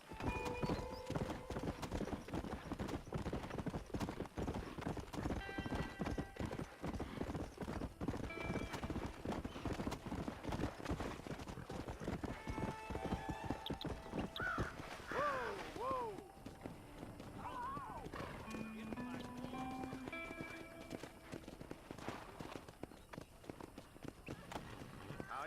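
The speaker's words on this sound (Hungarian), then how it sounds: "Ilyen szép lovat kaptam." Horse hooves clip-clop steadily in Red Dead Redemption, with whinnies and neighs rising over the galloping rhythm, mixed with game ambience; muffled speech appears in places.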